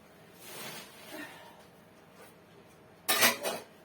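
Soft rustling gives way to a brief, bright clatter of dishes and utensils knocking together near the end, fairly close.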